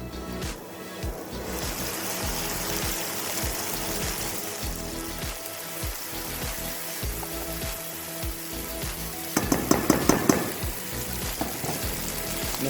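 A paste is added to a hot pan while cooking baghaar-e-baingan and sizzles with a steady, loud frying hiss throughout, with a short run of sharper crackles and pops near the end.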